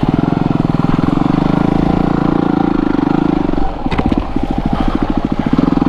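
A trials motorcycle ridden along a ledge on an off-road trail in Japan, its engine loud and close with a rapid chugging pulse and some clattering of the bike over rough ground.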